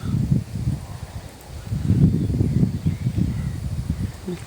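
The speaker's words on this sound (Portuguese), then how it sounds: "Olha a ventania." Strong, gusting wind at a cold riverside campsite after rain, heard as a deep, buffeting rumble that surges in uneven bursts, strongest in the middle and latter part, with no voices.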